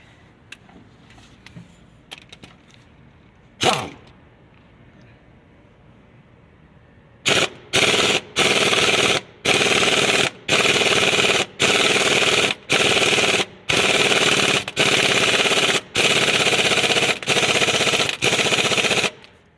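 An air impact wrench rattles in repeated loud, close bursts as it drives a water pump bolt on a Ford Taurus engine, about a dozen short hammering runs separated by brief pauses. A single sharp knock comes first, then a quiet lead-in.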